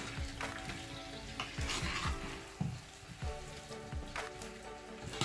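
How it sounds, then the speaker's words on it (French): Carrots and cassava being stirred into sauce in a pan, soft wet squelching and scraping strokes repeating under a low sizzle, with occasional utensil clinks against the pan. "je mélange bien"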